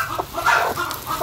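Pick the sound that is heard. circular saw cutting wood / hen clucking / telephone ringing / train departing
hen clucking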